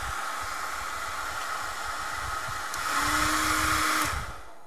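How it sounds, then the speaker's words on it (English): A hair dryer blows steadily with a constant whirring hiss while heating a Galaxy Note 3 phone to separate its glass, briefly growing louder and higher midway before easing back down. "I'm gonna go ahead and start heating up the hair dryer here."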